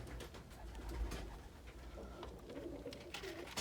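Pigeons, including a male Turkish dönek (tumbler) pigeon, coo softly nearby, low throaty calls repeating over a faint, noisy background.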